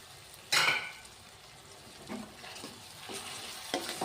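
Tamarind gravy for capsicum rice frying and bubbling in oil, a soft steady sizzle under a louder stirring scrape near the start and a few light utensil knocks against the pan later.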